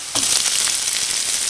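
Garlic and onion fry in hot cooking oil with a loud, steady broadband sizzle that jumps up as the onion hits the pan and holds dense and close to the end.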